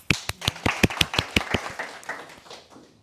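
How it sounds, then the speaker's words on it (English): A small group at a quarterly community meeting with lightning talks claps for the next speaker. Close, crisp individual claps quickly thin out and fade within a few seconds. "Round of applause."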